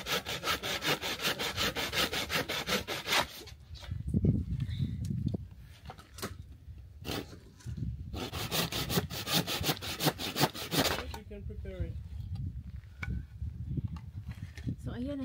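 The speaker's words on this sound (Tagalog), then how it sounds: "So ngayon, gamit tayo ng manual na gabas." A manual hand saw cuts through wood in a quiet backyard setting, rhythmic rasping strokes in bursts with short pauses between them, close and fairly loud, with a voice speaking intermittently between passes.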